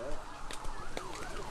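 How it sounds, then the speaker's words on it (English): Sirens wail faintly in the distance at a recreation-league youth football game, their wavering tones rising and falling under crowd noise. "We hear some sirens in the background."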